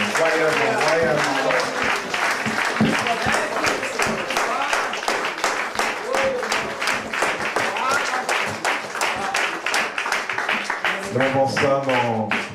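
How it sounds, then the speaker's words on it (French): A church congregation claps and cheers loudly while voices call out and speak over the applause throughout, with bursts of singing-like calls near the start and end. "On a applaudi bon Dieu royalement"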